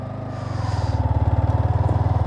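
A Yamaha R15 V4 motorcycle rides along with a steady, loud, throbbing engine note close by, pulsing rapidly and evenly throughout, no talking heard.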